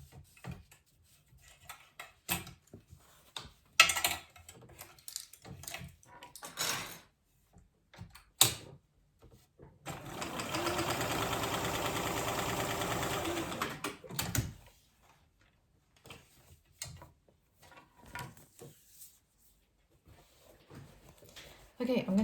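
A domestic sewing machine runs in one steady burst of several seconds, stitching along the top edge of a fabric tote bag, framed by quieter clicks and handling noises before and after.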